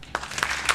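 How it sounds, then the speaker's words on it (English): A few people give a light golf clap, a short soft patter of scattered hand claps that lasts under a second. "Golf clap."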